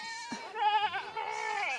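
Goats in a herd of roughly 15 to 20 bleat loudly near the listener, with overlapping quavering cries following one another without pause.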